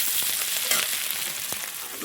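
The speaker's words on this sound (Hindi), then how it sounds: "देखिए अभी प्याज ब्राउन हो रहा है" Onions frying in a kadhai over a wood fire, a steady close sizzle with faint crackles and a few soft stirring knocks, no voices.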